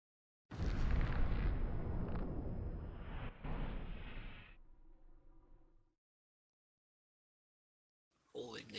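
A bomb detonation in the EVE Online space video game: a loud deep blast that rumbles and decays over several seconds, then cuts to near silence before a voice returns.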